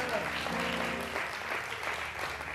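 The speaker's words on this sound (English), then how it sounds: "Let's give the Lord a hand clap of praise." Church congregation giving a hand clap of praise during a sermon, continuous dense clapping at moderate volume with voices and faint tones mixed in beneath it, swelling slightly at the end.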